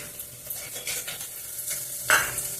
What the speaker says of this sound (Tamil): அதில் கடுகு, உளுத்தம்பருப்பு, கடலைப்பருப்பு பொரிச்சு கொட்டுறது.